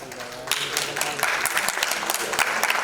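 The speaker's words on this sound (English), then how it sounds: "Big round of applause, please." Audience clapping at a music video launch event, a steady round of applause lasting a few seconds, loud and dense with a crowd feel, rising in intensity partway through.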